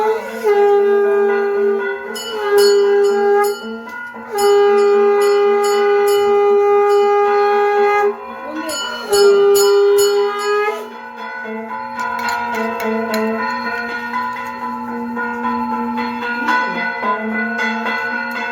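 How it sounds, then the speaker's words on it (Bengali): Bells ring out for a Janmashtami Krishna celebration, struck in loud sustained bursts with long-ringing tones, steady near ringing continuing throughout, and conch shells called for in the festivities. "বাজাও বাজাও শাঁখা ঘন্টা।"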